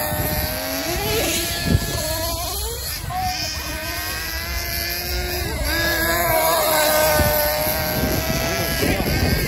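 Serpent SRX8 nitro RC buggy engine whining and revving as the car is driven on a test run, rising and falling with throttle, with a voice talking over it throughout.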